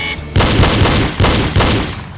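Loud, booming pistol shots during a reload drill, three or four heavy reports in quick succession, close and reverberant, each blast running into the next.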